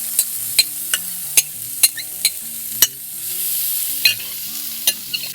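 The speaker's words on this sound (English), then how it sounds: "Just listen to that sizzle" Steady sizzle of sausage and peppers frying in oil on a flat-top griddle, with sharp repeated scraping clicks of a spatula on the hot surface, over soft background music.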